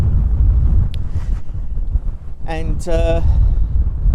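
Heavy wind buffets the microphone in a constant low roar beside a sea wall near Coalhouse Fort, Essex, with a voice briefly heard over it.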